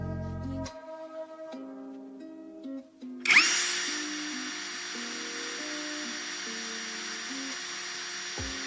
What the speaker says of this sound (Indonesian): Sekarang kita kembali ke speed 1 ya, dengan menggunakan fitur turbonya.